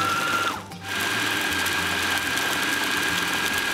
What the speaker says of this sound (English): Place a lid on the food processor and start by pulsing before working up to a full blend.